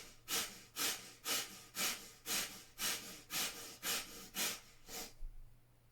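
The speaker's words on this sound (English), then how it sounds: "and we do breath of fire." Breath of fire yoga breathing: a rapid, even run of about ten forceful nasal breaths, close and clear, each a rushing puff, ending abruptly in quiet.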